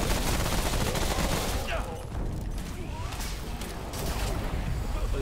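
Dense bursts of gunfire rattle almost continuously in a video game firefight, loud and close, with a brief lull partway through before the volleys resume.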